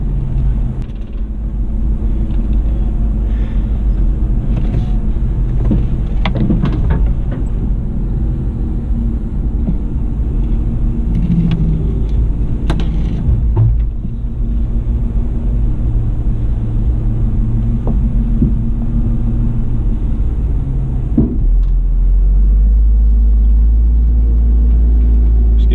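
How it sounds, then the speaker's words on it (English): A Toyota Land Cruiser truck engine rumbles steadily on an off-road trail, close and loud for the whole stretch, with a deeper low-end surge near the end as it throttles up. "Just giving him a little help, throttling up my truck."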